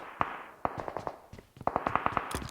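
Rapid bursts of M4 rifle fire in a multiplayer shooter game, a series of sharp, loud cracks in quick irregular volleys across the moment.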